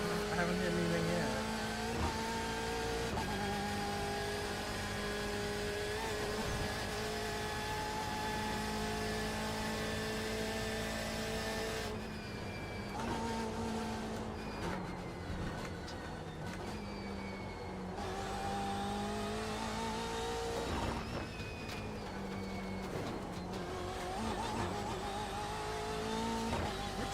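A GTE race car engine in the iRacing game at the Nürburgring, a steady droning whine that shifts pitch with gear changes and revs, heard continuously and fairly quietly.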